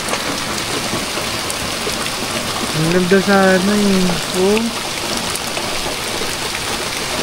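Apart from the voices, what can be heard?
heavy rain falling outdoors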